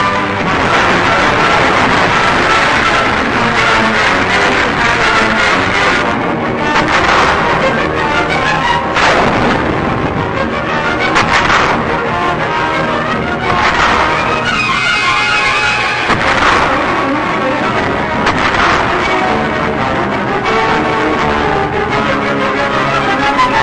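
Japanese artillery fire during the 1945 Okinawa operation, on an old wartime film soundtrack, a dense, continuous barrage of heavy booms and rumbling blasts, loud and distorted throughout, with no voices.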